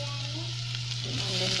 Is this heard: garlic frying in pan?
yes